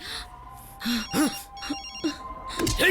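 A telephone rings with a bright, repeating electronic tone, while voices and gasps break in over it.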